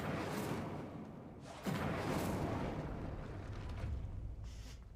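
An Incendio fire spell is cast in the video game Hogwarts Legacy, heard as a sudden roaring burst of flame that swells and lingers as a dense, rushing whoosh.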